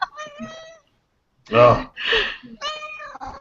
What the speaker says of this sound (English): There's cats going everywhere here.